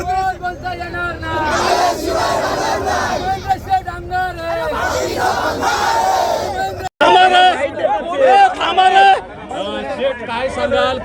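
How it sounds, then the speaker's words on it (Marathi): Party workers celebrating an election victory in Alibag roar and cheer loudly as a crowd, with overlapping shouts and chanting that break off briefly, then surge again. "कार्यकर्त्यांचा जल्लोष आहे"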